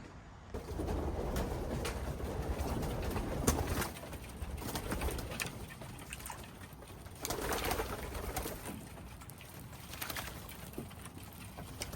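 Pigeons coo softly amid a constant rustling, splashing background as they bathe, with occasional flutters and low murmuring calls throughout.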